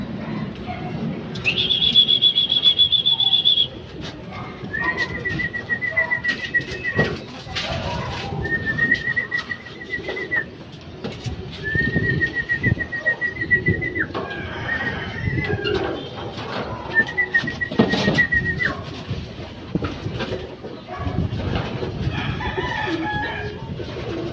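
Racing pigeons returning home to the loft after a race, with bird calls and flapping amid outdoor bustle, brief whistle-like tones recurring over about twenty seconds and occasional voices in the background.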